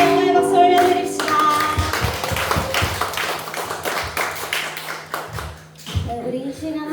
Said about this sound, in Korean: 우리 하나님께 감사와 영광의 박수 올려드립시다